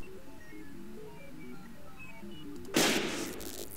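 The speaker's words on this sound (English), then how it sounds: "Who's shooting?" A single loud gunshot-like blast rings out in Sir, You Are Being Hunted, a first-person survival game with hunting robots, bursting suddenly near the end after quiet ambient music and leaving a fading tail.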